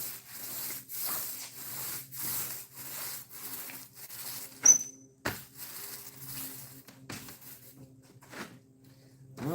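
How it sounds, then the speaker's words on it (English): Old glue being rubbed off skateboard veneer in a rhythmic series of close back-and-forth scrubbing strokes, with a sharp knock midway and short pauses between bursts. "Try to rub off some of that old glue before I keep going and adding more."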